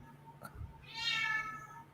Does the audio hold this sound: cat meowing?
yes